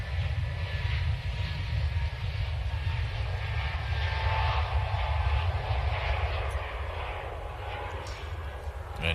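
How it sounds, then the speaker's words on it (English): Airliner climbing away from runway 23L at Manchester Airport, a steady deep engine roar with broadband rumble holding loud and even throughout, easing slightly toward the end. "A nice steady takeoff."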